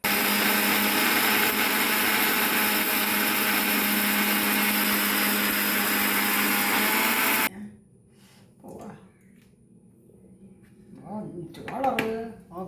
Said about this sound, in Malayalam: അപ്പോൾ ഞാൻ ഈ മിക്സിയുടെ ഈ ഗ്രൈൻഡറിൽ ഒരു പാത്രം നിറയെ എടുത്തിട്ട് പൊടിക്കാൻ തീരുമാനിച്ചു